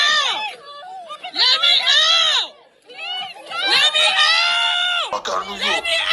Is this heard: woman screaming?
yes